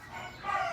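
A rooster crowing on a farm, one short, faint crow rising toward the end, heard alone without speech.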